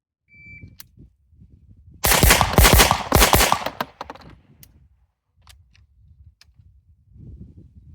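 Rapid pistol shots from a compensated 9mm race gun fired in a quick string at a shooting range, loud and sharp for about two seconds, followed by a few scattered distant reports and quiet handling noise.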